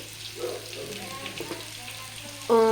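Spices frying in a pan for paneer butter masala give a steady low sizzle, ending in a louder burst of sizzling.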